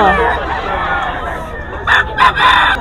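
A young stag gamecock of the B-boy line crows loudly and close at a rooster sale in Bocaue, followed by a few clucks and harsh calls from other fowl nearby.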